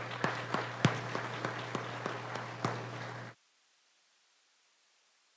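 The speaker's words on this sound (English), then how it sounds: "So let's big round of applause." An audience applauds at a community sports hall of fame induction ceremony, a few seconds of scattered claps over a steady low hum before cutting abruptly to silence.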